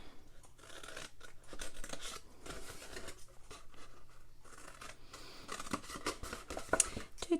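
Scissors snip along the long side of paper for a handmade shaker box craft, a steady run of soft, close crunching cuts at low volume with small rustles between.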